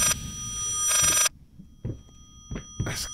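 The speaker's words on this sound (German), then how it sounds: "Das Telefon klingt hier unaufhörlich." A telephone rings in bursts in the horror video game Layers of Fear, a loud electronic trill that cuts off abruptly, followed by scattered soft thumps and a faint returning ring.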